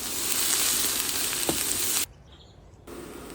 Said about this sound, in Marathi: आनी एक मिडियम सायज कांदो हे भाशेन शिनून घेतला हांवें. तळसून घेवया.